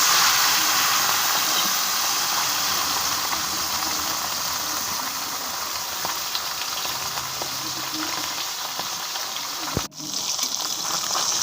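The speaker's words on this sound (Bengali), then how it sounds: "এবার মাছগুলো সব ভেজে নেবো জ্যান্ত বাটা মাছ একদম" Live bata fish, rubbed with salt and turmeric, fry in hot oil with a steady, close sizzle and hiss that fills the whole stretch, broken by one sharp pop near the end.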